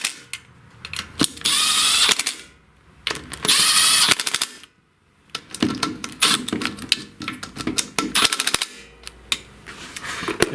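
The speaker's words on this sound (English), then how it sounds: "I have my impact set at the lowest setting. I'll just screw these in a diagonal pattern." A power impact driver set to its lowest setting drives bolts on a John Deere lawn tractor, rattling out two loud, sustained hammering bursts followed by shorter irregular clattering bursts.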